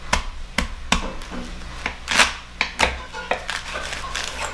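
A sharp kitchen knife cuts through the bottom of an ear of corn for Southern cream corn: a close series of crisp knocks and cracks in uneven rhythm, with one louder scraping crunch midway.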